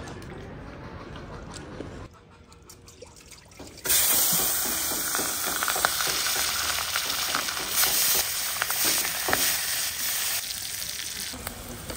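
Garlic hitting hot oil in a pan on a clay stove, a sudden loud sizzle that erupts partway through and keeps crackling steadily, with faint stirring and a quiet voice.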